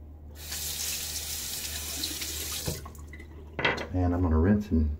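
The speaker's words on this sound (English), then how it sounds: "I'm gonna rinse and check it out" A bathroom tap runs in a steady close-up gush for a few seconds, then cuts off, followed by splashing and brief rinsing noises with a voice speaking over the end.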